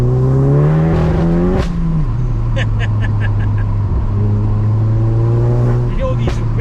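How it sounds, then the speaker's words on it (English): Stage 3 VW Golf GTI at about 492 PS heard from inside under load, a loud droning engine note climbing in pitch, with a shift, then a burst of rapid turbo flutter chirps before pulling again. "You hear all these whip noises and boost noises everywhere."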